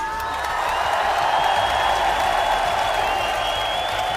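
A large crowd in Royal Arena applauds steadily at a BLAST esports trophy ceremony, a dense wash of clapping and cheering that stays loud throughout.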